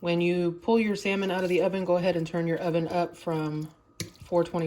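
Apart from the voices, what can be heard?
No everyday noises stand out.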